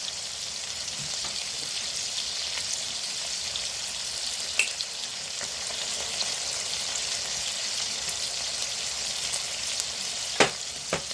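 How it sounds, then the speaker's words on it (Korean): Chicken stir-fry with two spoons of sugar and pepper sizzling steadily in a pan while being stirred, a continuous close frying hiss with a few light clicks of the utensil against the pan. "설탕 두 스푼을 넣어서요. 이렇게 저어주세요."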